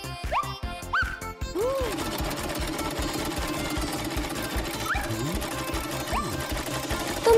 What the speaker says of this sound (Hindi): मेरी स्विंग मशीन हमेशा मेरे काम आती है। मैं एक कंस्ट्रक्शन आउटफिट सिलती हूँ।